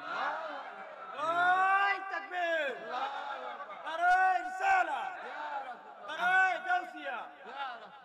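A large crowd at an Islamic religious gathering in Bangladesh chants the takbir in loud repeated rising-and-falling waves of massed voices, about four surges in quick succession.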